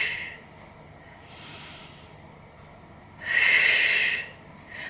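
Slow breaths out during a Pilates hip and buttock workout sound as soft airy hisses, the longest and loudest near the end, close to the microphone with no talking.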